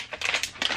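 A peanut chocolate snack packet is torn open up close, giving a short run of sharp plastic crinkles and rustles in a few quick bursts.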